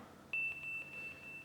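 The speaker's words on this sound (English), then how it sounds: "you hear these beeps fading out." Volume beeps from an XH-M189 digital amplifier, a thin high electronic tone starting abruptly and holding steady with small pulses as the volume is lowered, faint against a quiet background.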